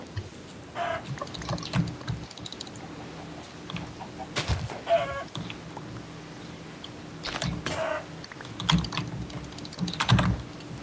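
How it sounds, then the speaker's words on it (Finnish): Scattered Minecraft chicken clucks sound over quick bursts of keyboard typing and clicking, with a low hum underneath. "Kanoja on ihan huolella."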